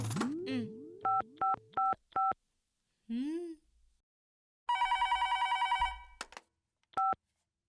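A series of quick electronic dialing beeps, a warbling ring, then a long burst of rapid telephone ringing, ending with a final short tone.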